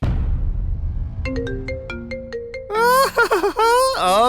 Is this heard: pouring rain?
no